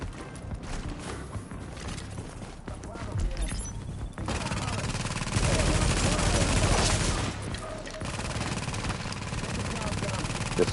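Custom M44 rifle fire in The Division, heard as dense game combat with bursts of gunshots and crashes over a busy, loud mix of effects lasting several seconds.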